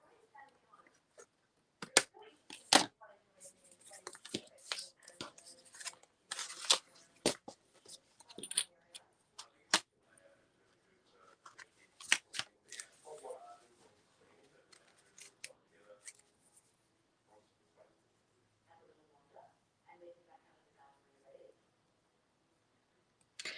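Scissors snip through paper or card while a window-faced craft pocket is made, giving repeated crisp cuts in uneven bursts close by, with a few quiet handling clicks and a voice talking in between.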